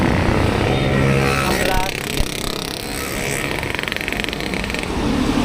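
A motorcycle exhaust roars close by on a road during a 100 km road-bike ride, making a loud, continuous rumbling drone mixed with wind noise that swells and shifts over several seconds.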